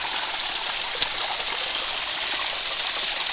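A small stream of water running from a natural spring fountain near Hiawassee, Georgia, giving a steady close hiss and splash with one brief tap partway through.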